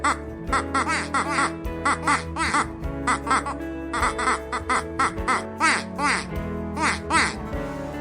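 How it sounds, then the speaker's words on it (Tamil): A duck quacks repeatedly in quick, rhythmic bursts, bright and nasal, loud and close, running steadily throughout with a low hum underneath. "தோட்டத்தில் ஒரு அழகான வாத்து குவாக் ஒலி எழுப்புவதைக் கண்டனர்."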